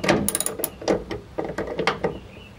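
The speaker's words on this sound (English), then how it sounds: "So, now we're gonna put the retractor in. Once it's snug a little bit, you can get it propped up right." Seat belt retractor being fitted into a 1965 Ford Falcon, heard as a quick run of close mechanical clicks, ratcheting and knocks of metal and plastic parts.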